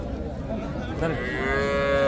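Cattle lowing at a Bangladeshi cow market, the Hazratpur cattle haat, where small calves are sold; a drawn-out moo rises over steady crowd murmur and grows louder toward the end.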